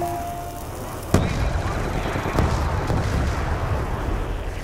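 Gunfire in Black Ops II Zombies, Tranzit mode: a sharp loud blast followed by sustained rapid, crackling shots with rumbling echoes, fairly close and continuous until the end.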